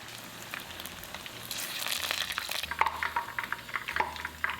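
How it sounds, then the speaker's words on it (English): Shrimp spring rolls deep fry in oil at about 325 degrees Fahrenheit, producing a continuous close bubbling sizzle that swells as more rolls go in, with a low hum beneath. "Transfer in the spring rolls a few at a time. Fry until golden brown for about 4 minutes."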